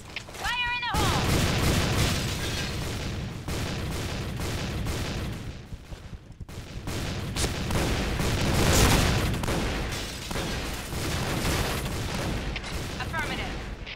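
Video game combat with a grenade blast and bursts of gunfire, loud repeated shots and booms crowding the scene, with game voices calling out between the firing.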